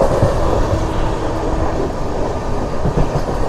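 Coromandel Express running at speed on the main line, a steady loud rumble of the moving train with faint wheel rhythm throughout, heard from inside the carriage.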